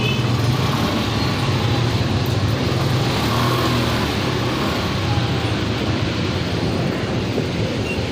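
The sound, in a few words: road traffic with tricycles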